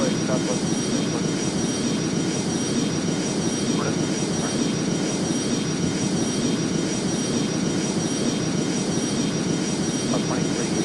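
Boeing 737 jet engines in the flight game Airline Commander, an Air AlbaStar flight from Rome, roar as a loud, steady broadband drone with a faint high whine throughout.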